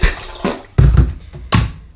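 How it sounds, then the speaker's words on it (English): Water splashes into a kettle in a home kitchen in three close, gushing bursts, each loud and splashy before trailing off. "Need some water in the kettle."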